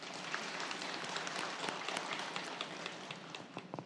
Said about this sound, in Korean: 우리 박수해 주시기 바랍니다.